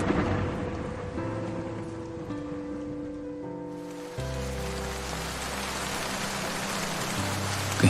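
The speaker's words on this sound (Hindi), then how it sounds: "बारिश शुरू हो गई।" Steady rainfall with rolling thunder in a story setting, a dense continuous hiss with low rumbling that swells louder partway through, no voices.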